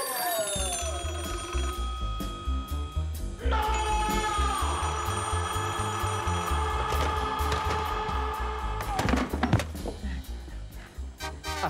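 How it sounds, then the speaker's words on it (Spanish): A telephone bell rings in a Colombian film scene, a steady repeated ring that runs through most of the stretch over a bed of music and low rumble. "Marcando los últimos dos números y teléfono timbrando."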